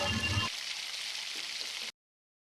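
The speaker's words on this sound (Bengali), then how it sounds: "বাকি তেলের মধ্যে আগে থেকে ডুমো করে কেটে রাখা আলুগুলো দিয়ে সেইগুলোকেও লাল লাল করে ভেজে একটি পাত্রে আমি তুলে নেব" Diced potatoes frying in oil, giving a steady hiss and crackle close by that runs evenly for nearly two seconds and then cuts off abruptly.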